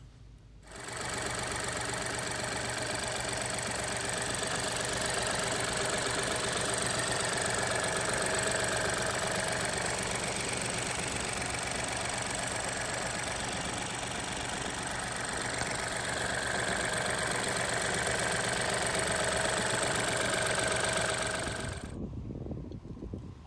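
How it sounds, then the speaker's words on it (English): An Audi A1 30 TFSI Sport's 1-litre three-cylinder turbocharged petrol engine idles steadily with a light, rapid, sewing-machine-like ticking whir, close and even for about twenty seconds before cutting off. "This A1 has a 1 litre 3-cylinder turbocharged petrol engine, although it does sound kind of like a sewing machine when it's idling."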